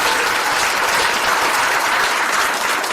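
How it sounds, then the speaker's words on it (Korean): A crowd at a political campaign rally in Daegu, South Korea, applauds with dense, steady clapping that holds at an even loudness for the whole stretch, with no talking over it. "박수를 부탁드립니다"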